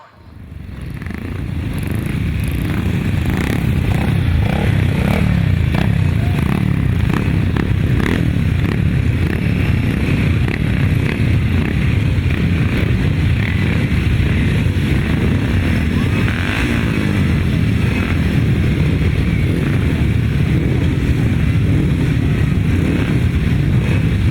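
Several pre-1975 grasstrack racing motorcycles drone loudly and continuously at a race start, revving together for the whole stretch, with wind buffeting the microphone.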